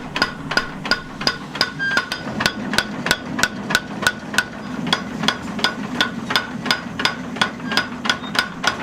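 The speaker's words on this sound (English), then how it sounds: "The belt hammer is used to create the shape and thickness of the knife." Belt hammer shaping a knife blade in a traditional Japanese forge, steady rapid metallic strikes at an even rhythm, close and loud with a faint ringing after each blow.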